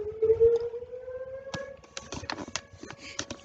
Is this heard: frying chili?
no